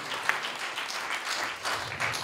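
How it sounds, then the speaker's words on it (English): A church congregation at a Sunday service claps in praise, a dense, steady wash of many hands clapping at moderate distance, with faint voices mixed in. "Let's give the Lord a clap of praise"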